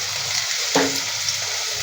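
Rui fish frying in a pan after salt is added, a steady close sizzle with one brief stir or clatter partway through, no voices.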